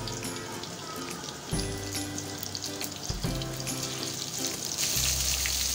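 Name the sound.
batter-coated mutton chops frying in hot oil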